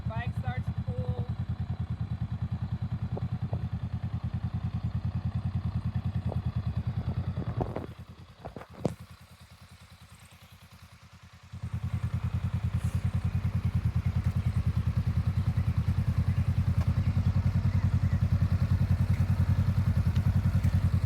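A motorcycle engine idles steadily while a new rider practices finding the clutch friction zone. The low rumble is near and continuous, dips and goes quiet for a few seconds partway through, then returns at full strength, with voices talking over it.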